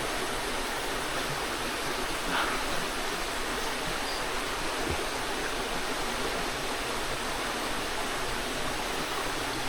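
A forest river stream flows with a constant, even rushing noise, steady and enveloping for about ten seconds without breaks.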